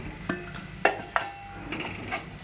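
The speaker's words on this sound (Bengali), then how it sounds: "এরপর এই গুঁড়ো মশলা এর ঘিয়ের সাথে ঢেলে দেবো।" Spice powder poured into hot ghee in a pan for a special fishing bait mix, giving a few sharp scraping and clinking stirs with a soft background sizzle, close and moderately quiet.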